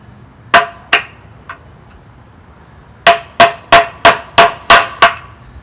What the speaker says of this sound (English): I'm just going to try to knock in the edges.